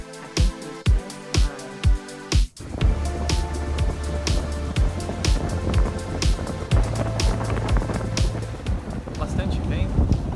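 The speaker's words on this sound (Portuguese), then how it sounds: "Bastante vento." Strong wind while sailing a support dinghy near Ilha Grande, Brazil: heavy buffeting wind noise and rushing water fill the clip, with rhythmic thumps early on and a motor-like drone running underneath.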